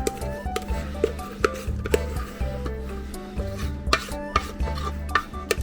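Cake batter for a hummingbird cake dumped and scraped into a greased cake pan, with soft wet plops, repeated scraping strokes and light utensil knocks against the pan, close and fairly quiet.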